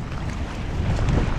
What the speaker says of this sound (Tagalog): Sa taas ay mahangin.